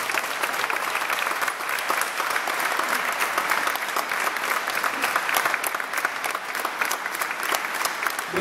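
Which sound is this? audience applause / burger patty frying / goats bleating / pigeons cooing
audience applause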